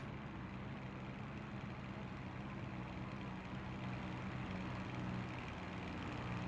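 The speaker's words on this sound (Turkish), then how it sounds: "bir tane uçak geçiyor yani." An airplane flies over in the battle royale game PUBG, a steady broadband engine drone that stays constant and faint throughout with no voices.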